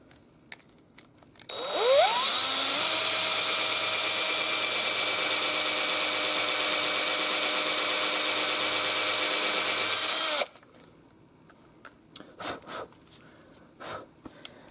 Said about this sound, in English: I'm lucky it fits in this drill. So I think I'm gonna do a hole right there.